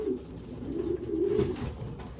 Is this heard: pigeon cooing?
yes